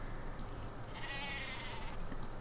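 Dall sheep bleating in the zoo-building game Planet Zoo, a single short bleat over a steady murmuring background of game ambience.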